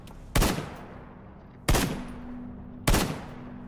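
Three single gunshots from a player's gun in a video game ring out about a second apart, each a loud, sharp crack followed by a fading echo over low background noise.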